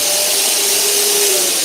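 A workshop dust extractor, the kind switched by a small remote clicker, roars in a loud, continuous rush of air with a faint steady tone riding on top, heard close up and without talking.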